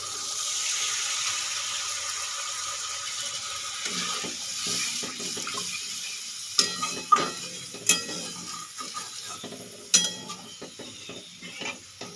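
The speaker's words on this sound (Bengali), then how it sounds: "এই যে আমি জল দিয়ে দিয়েছি," Water poured into a hot pan for egg kofta curry, a broad hissing rush that settles into quieter bubbling with a few sharp clinks of a utensil against the pan, close and with no talk.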